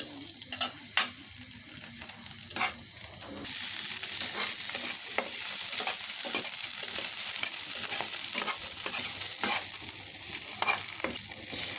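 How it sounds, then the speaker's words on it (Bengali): Green chillies fry in a little oil in a pan, starting with scattered crackles and pops, then swelling into a loud, continuous sizzle with sharp spits throughout. "কাঁচামরিচটা আমি ভালো করে ভেজে নেব।"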